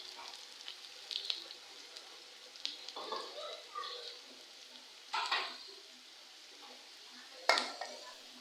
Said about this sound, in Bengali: এই তো পেঁয়াজগুলো ভাজা ভাজা হয়ে গেছে